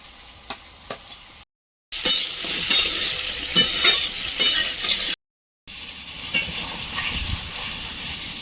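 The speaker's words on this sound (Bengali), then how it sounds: "উচ্ছেটা ভেজে নেব তেলে" Bitter gourd fries in oil with five-spice seeds, giving a close, hissing sizzle broken by utensil scrapes and stirring, with two brief silent gaps.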